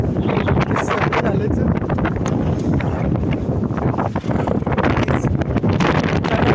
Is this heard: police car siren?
no